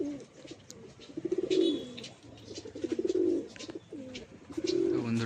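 Female pigeons settling on a landing stand give repeated soft, throaty coos in rhythmic bursts, close by and fairly quiet, with brief gaps between calls and no talking.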